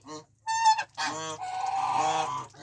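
A goose on a farm by a marsh gives a series of loud, close honks, two short calls followed by a longer drawn-out cry, with no talking.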